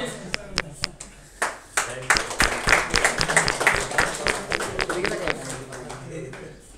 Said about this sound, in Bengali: আজকে ন্যাপমেট্রোর ওরিয়েন্টেশন প্রোগ্রামে সবাই করতালি দিয়ে